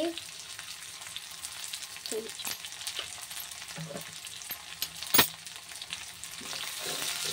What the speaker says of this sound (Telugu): మెంతులు ఎర్రగా అవ్వాలి, పచ్చానపప్పు క్రిస్పీగా వేగాలి, పోపు సామాలు అన్నీ